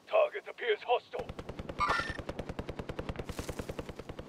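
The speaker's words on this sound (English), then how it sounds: "Shots down here." Rapid automatic gunfire from the Call of Duty: Modern Warfare video game, a steady fast burst of shots lasting several seconds after a brief spoken line, with a short radio-like blip partway through.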